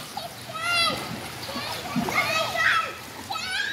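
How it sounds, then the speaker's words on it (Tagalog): Splashing water from a child jumping into a hotel resort pool, repeated bursts of splash and spray mixed with children's and adults' voices and chatter throughout, moderately close. "Jesse, huwag nang talon ng talon."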